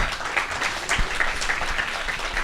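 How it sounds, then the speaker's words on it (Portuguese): An audience at an astronomy education lecture applauds in a short, steady wash of many hands clapping, evenly loud and close, with no speech over it. "pedir uma salva de palmas"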